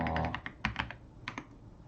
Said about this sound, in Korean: 키보드 점을 누른 후에 키보드의 탭키를 눌렀습니다